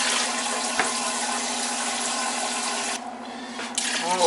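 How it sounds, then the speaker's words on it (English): Water pours steadily into a pot of beef stew with beef broth, a continuous splashing stream that briefly thins near the end before resuming, with no talking. "Adding some water."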